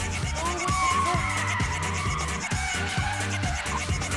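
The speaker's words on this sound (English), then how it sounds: "The amazing Russ Swift will be handbrake turning all day, every day, till the show closes on November the 3rd." A new Mini skids through repeated handbrake turns at a live motor show, its tyres squealing loudly and continuously over a rhythmic engine drone, with the squeal rising and falling as the car swings around.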